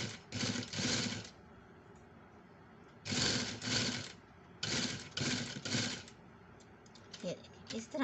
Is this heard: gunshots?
no